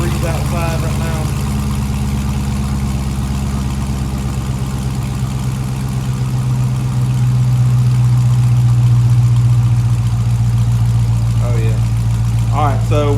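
A Dodge Charger SRT with Stainless Works cat delete pipes idles with a deep, steady, rumbling burble. The engine is near and loud, holds an even tone, and a voice talks over it briefly.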